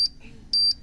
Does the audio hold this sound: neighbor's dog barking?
no